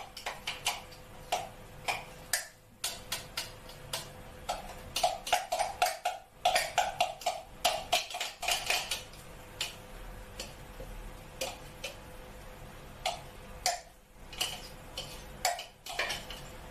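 Knife chopping red cabbage into strips on a cutting board for a red cabbage soup, a run of sharp, quick ticking cuts in uneven bursts with short pauses, close and clear, no talking.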